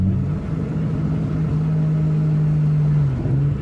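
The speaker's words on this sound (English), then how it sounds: "So here's a few clips of Jake's R32 whilst I drive to this spot." Nissan R32 with an RB engine driving, a steady close engine drone that holds one pitch for several seconds and then dips briefly near the end.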